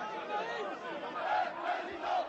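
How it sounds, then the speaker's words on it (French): A large crowd celebrating Jean-Marie Le Pen's election result at a May Day rally, archive footage: a dense, distant roar of many cheering voices, swelling and chanting continuously. "la foule célèbre le 1er mai le succès électoral de Jean-Marie Le Pen"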